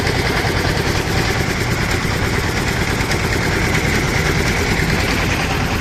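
A trawler boat engine runs loud and close, a continuous heavy droning rumble with steady vibration and no breaks.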